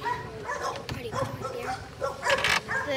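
Several dogs bark and yip in short bursts close by, with whimpering mixed in and people talking over them.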